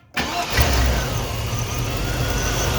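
A fuel-injected Suburban engine cranks briefly and catches on the first try, then settles into a loud, steady idle close by.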